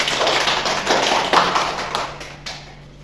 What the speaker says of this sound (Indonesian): Tolong beri aplaus dulu pada teman.